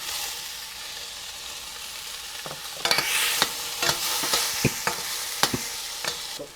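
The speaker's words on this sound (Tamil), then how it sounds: "பச்சை மிளகாவும் நல்லா வதங்கிருச்சு" Tomatoes and green chilies sauté in a pan for peanut chutney, a soft steady sizzle under repeated scraping stirs of a spatula that grow busier in the second half, close and without talk.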